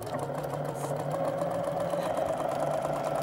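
A sewing machine stitching a dense satin stitch, a steady close mechanical whir with a fine rapid needle rhythm running throughout without pause.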